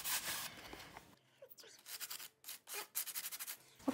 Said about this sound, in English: Taking my sanding block again.